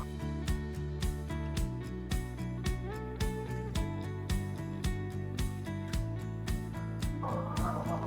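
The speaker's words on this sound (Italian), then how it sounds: "facciamo due passi in mezzo a questo tappeto di ovaiole" A flock of laying hens in a barn keeps up a dense, continuous chorus of clucks and calls at close range over a steady mechanical drone.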